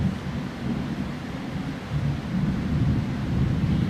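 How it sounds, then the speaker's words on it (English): Thunderstorm with rolling low thunder rumbling continuously beneath a steady wash of rain and wind, swelling slightly louder toward the end with no voices. "we're having a thunderstorm"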